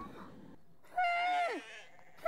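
A single loud, close bleat from nomadic herders' livestock of sheep and goats in high snow-leopard mountain country, one wavering call rising then falling, with quiet moments around it.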